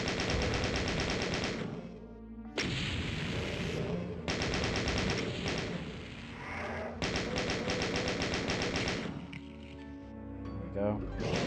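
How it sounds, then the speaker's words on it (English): Rapid, relentless chain gun fire from the Doom shooter, loud bursts of fast repeated shots broken by brief pauses, with other game sounds between volleys. "I do still have my chain gun."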